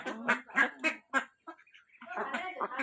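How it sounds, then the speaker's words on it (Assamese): Village ducks eating scattered rice give a run of five loud, close quacks in quick succession, then softer mixed quacking and murmuring. "এয়া হাঁহে চাউল খাই আছে"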